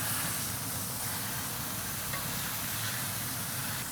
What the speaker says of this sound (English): So you can see how we get that full sear all the way across with all of that direct heat with the flame hitting onto the skillet here